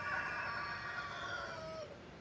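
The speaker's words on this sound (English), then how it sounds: "Rooster." A rooster crows in a long, drawn-out call that fades at the end, heard from a short distance over a faint outdoor background.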